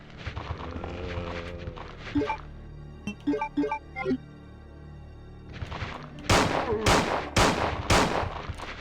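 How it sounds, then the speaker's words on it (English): Gunfire in the video game Resident Evil 2, a few sharp shots spaced over several seconds among game sound effects and clatter, with louder bursts near the end. "So I want to shoot him back to stagger him."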